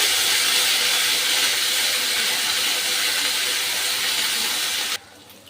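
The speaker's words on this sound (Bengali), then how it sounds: "মশলাটাকে আমি একটু ভালো করে কষিয়ে নেব" A paste of ginger, dried chili, poppy seed and melon seed fries for a yogurt fish curry, making a loud, dense, continuous hiss that cuts off abruptly just before the end.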